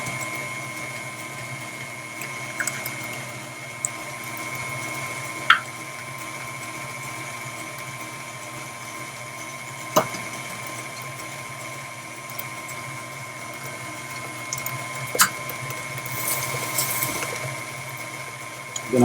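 Stand mixer whirring steadily as eggs are beaten one at a time into chocolate chip cookie dough, a constant motor hum with occasional sharp clicks and clatters.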